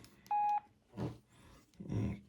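Keypad tones of a Samsung button phone dialing the emergency number 112: a short steady DTMF beep near the start, followed by two bursts of low rumbling handling noise.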